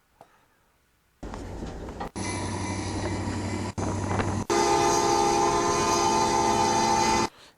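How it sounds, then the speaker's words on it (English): A train horn sounds in long, loud, sustained blasts that start after a quiet moment. A brief gap separates the blasts, and the final blast is held for several seconds before it cuts off. "So it's horn honking."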